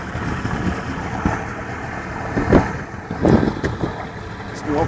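A boat engine idles and runs at low volume, a steady mechanical rumble with a few louder bumps and swells, heard up close without clear talk.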